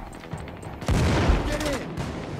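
Automatic gunfire and explosive bursts in the PAYDAY 2 heist shooter's Reservoir Dogs mission, a loud sustained volley of shots starting about a second in over quieter game noise.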